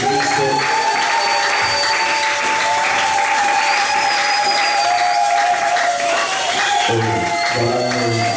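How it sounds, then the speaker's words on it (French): Church congregation at a Sunday service clapping and cheering loudly together, a sustained dense wave of applause with shouts of acclaim and music running underneath. "pouvez acclamer très fort pour le règne de Jésus-Christ."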